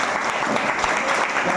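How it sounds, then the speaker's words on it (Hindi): Loud, dense applause from the audience at a farmers' seminar in Khargone, Madhya Pradesh, a steady burst of many hands clapping together with no pauses. "एक बार जोरदार ताली बजाएं।"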